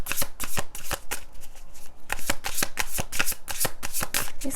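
A deck of tarot cards is riffled and shuffled over and over, with dense, crisp bursts of card flutter that repeat steadily and sound close.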